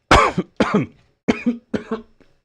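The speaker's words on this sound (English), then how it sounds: "I still have a cough" Four sharp coughs from one person in quick succession, close and loud, each a short harsh burst with a brief trailing rasp, followed by a couple of faint throat sounds.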